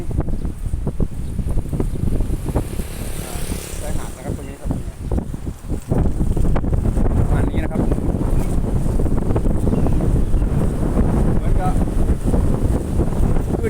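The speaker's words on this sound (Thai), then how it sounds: "ลมแรงลมแรง" Strong wind buffets the microphone on a beach at Laem Charoen in Rayong, a loud continuous roar with surf beneath, easing briefly before surging back even harder.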